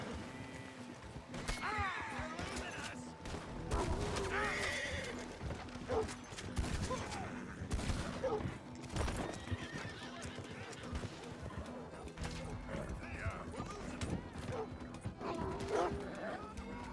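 A Tennessee Walker horse in Red Dead Redemption neighs and whinnies repeatedly while hooves clop through swampy ground amid combat, with gunfire and crashes mixed into a dense, loud scene.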